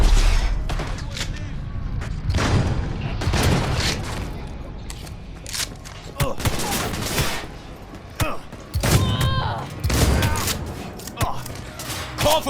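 Rapid gunfire and heavy grenade explosions from evening street combat in Cyberpunk 2077 on PlayStation 5, loud bursts and booms repeating throughout, with shouted voices briefly among the battle.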